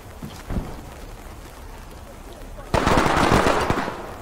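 Gunfire in the tactical shooter game Ready or Not: a couple of isolated shots early, then a dense burst of rapid automatic fire that swells loud and close, with a voice speaking in the background.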